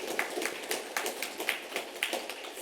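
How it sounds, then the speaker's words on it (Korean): Church congregation applauding during a Sunday worship service to congratulate members back from a wedding in America, a fairly quiet, steady pattering of clapping hands that carries on for a few seconds without voices. "우리 한번 박수로 또 축하하는 의미에서 박수 한번 하겠습니다."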